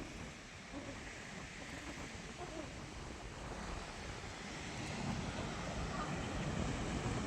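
Steady wash of sea waves and gusting wind on a seashore, a continuous broadband roar that swells slightly louder toward the end, with no clear voices.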